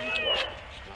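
A dog gives a short, high yelping bark that trails into a whimper, close and fairly loud, with voices around it.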